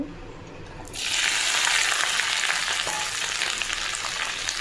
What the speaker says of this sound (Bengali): ভিন্ডিটাকে প্রথমে ভেজে নেব